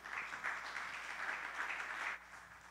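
A church congregation applauding during a Spanish-language sermon, steady clapping that carries on for about two seconds before easing off.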